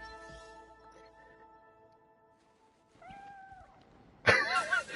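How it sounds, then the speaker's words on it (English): A cat in the video game Spider-Man: Miles Morales gives a couple of meows, one soft and drawn out mid-clip and a louder, sharper one near the end, over quiet game ambience with a faint steady hum. "Every now and then I just get the odd meow from this cat"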